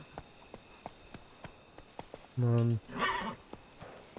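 Geralt's horse Roach in The Witcher 3 clip-clops at a quick run with steady hoofbeats, then gives a loud, sustained whinny; someone speaks briefly over it.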